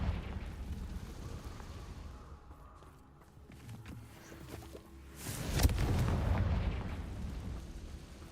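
A Confringo fire spell bursts in Hogwarts Legacy, with a low rumble and smaller impacts building to a loud, broad blast with a booming tail, surrounded by scattered combat noise.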